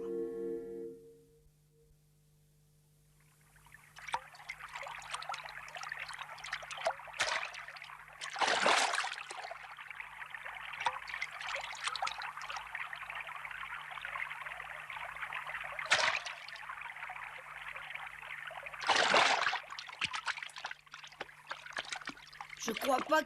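River water flows and trickles steadily with occasional louder splashes, under a quiet background hum, with no talk over it.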